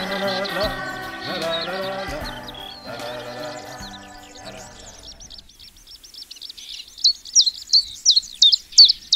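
A common chiffchaff sings in open country in Brittany: a rhythmic series of high, sharp repeated notes, clear and fairly close, following a fading stretch of music with other high bird calls scattered behind.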